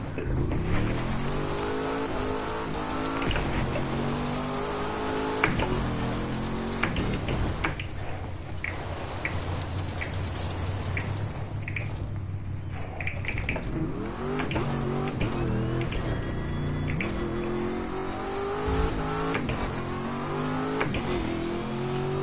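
A drag car in The Crew 2 revs and accelerates hard, the engine note climbing and shifting repeatedly over about twenty seconds, steady and fairly loud with no talking.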